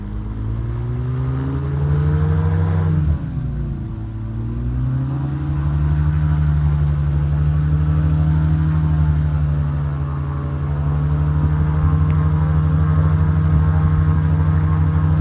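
Light aircraft engine idling steadily on the ground, a strong droning hum with a brief dip in revs before settling back, close and continuous with no talk.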